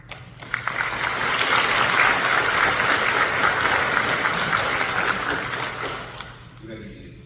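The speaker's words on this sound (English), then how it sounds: "For this, I applaud you." A hall audience claps steadily for cadets at a staff briefing, a dense sustained round that starts quickly, holds for several seconds and thins out near the end, with a low steady hum underneath.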